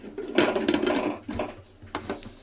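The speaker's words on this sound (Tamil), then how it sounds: "இப்போ குக்கர் மூடி வச்சு மூடிடலாம்" Metallic clanks and scrapes of a pressure cooker lid being set and twisted shut over boiling water, a rattling burst followed by a few lighter knocks, while making rice flour puttu.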